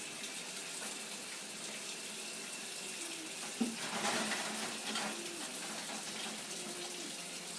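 Tap water running into a sink while dishes are rinsed, a steady hissing stream throughout with a brief clatter and splash partway through.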